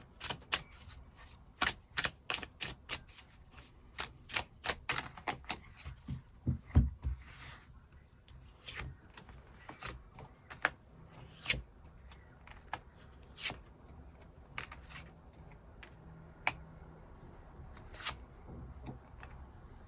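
Tarot cards are shuffled and drawn by hand in a quiet room, a long run of crisp, close riffling snaps and flicks in irregular bursts, with no voice over them.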